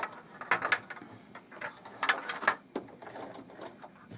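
A sewing machine stitching the seam of a double-sided baby blanket, its needle running in short bursts of rapid mechanical clatter with brief pauses between, close and fairly quiet.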